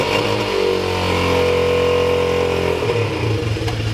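A Duramax diesel truck engine on a cold day runs loud and close, a steady rumbling idle with a slight rise in revs, then settling lower toward the end.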